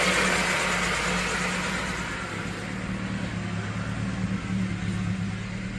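Car engine idling right after a carburetor adjustment, running close to 1000 RPM: a steady, even low hum with a faint mechanical whine, continuous and unchanging.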